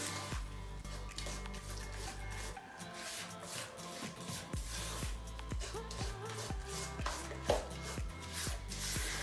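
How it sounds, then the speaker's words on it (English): Muffin batter for banana chocolate chip mini muffins being stirred by hand in a bowl until creamy, a steady run of close, rhythmic scraping and knocking strokes that repeat throughout. "Now we're just gonna mix this up. Until it's nice and creamy and smooth."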